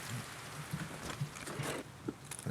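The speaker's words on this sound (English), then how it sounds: "Or the rain just quit." Steady rain falls in the video game Escape from Tarkov, a constant broadband hiss with faint patters and a few soft thumps over it, moderate and even throughout.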